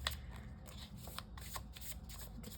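A deck of playing cards being shuffled up close, quick riffling bursts in a steady run, quiet and with no voice over it.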